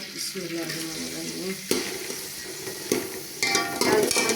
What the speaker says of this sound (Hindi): यहाँ से भूनते हैं प्याज किया